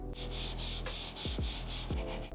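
Continuous rhythmic scraping as a computer mouse slides back and forth over a glass mousepad, close up, with soft low thumps.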